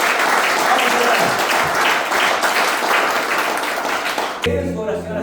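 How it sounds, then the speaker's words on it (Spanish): A church congregation breaks into dense, sustained applause for Jesus during a sermon, clapping filling the room before cutting off abruptly, with a voice heard underneath. "Denle un aplauso, Señor."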